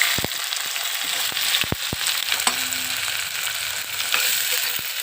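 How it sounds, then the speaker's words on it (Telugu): Goat head meat fries with onions in hot oil, giving a constant, close sizzle. A few sharp clicks and knocks from a utensil sound against the pan. "ఇది ఉల్లిపాయలతోనే ఇది కూడా వేగాలండి. వేసేస్తున్నాను చూడండి."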